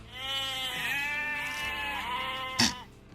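A goat kept as a pet gives a long, wavering bleat close by, with a second bleat blending in and a brief sharp burst near the end.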